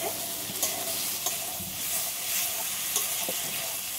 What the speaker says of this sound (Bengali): এবার ভেজে রাখা আলুটা এর মধ্যে দিয়ে দিচ্ছি, আবার একটু নেড়ে চেড়ে নেব আলুর সাথে।